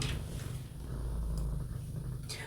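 A pet cat purring with a low, continuous rumble while being touched near the belly, the steady vibration sitting close and fairly loud for a couple of seconds, with faint rustling handling noise at the start and end.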